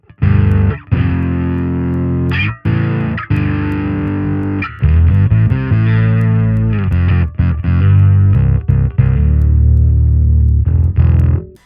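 A bass guitar runs through a gritty Line 6 Helix octave pedal model in front of drive, thick sub-low tones under distorted notes, played as a steady riff with brief gaps.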